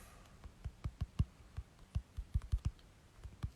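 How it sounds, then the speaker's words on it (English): Typing on a computer keyboard, a quiet, uneven run of soft key clicks and taps with short pauses between bursts, close by and with no voices. "Let me type this in."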